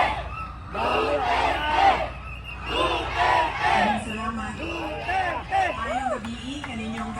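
A rally crowd at a church anniversary event roars and cheers in repeated loud waves, with individual voices shouting and whooping over the dense hubbub.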